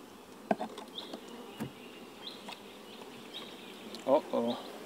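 Honeybees drone steadily around a beekeeper's hives affected by colony collapse disorder, a continuous close buzzing with a few brief knocks and a short louder burst near the end.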